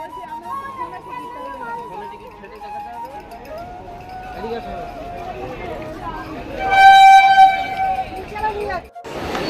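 A train at Rampurhat railway station, its horn sounding loud and steady near the end over a rumbling platform din, with a family's voices chattering nearby throughout.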